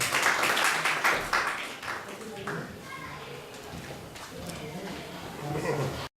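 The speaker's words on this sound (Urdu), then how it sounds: "آپ کی بھرپور تالیوں میں" An audience claps at an Urdu poetry gathering in Barcelona, strong applause at the start thinning to scattered claps, then swelling again near the end.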